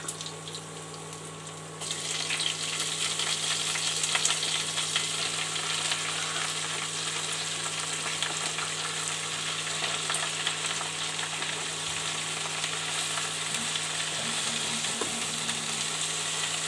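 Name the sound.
pumpkin greens frying with garlic in a pan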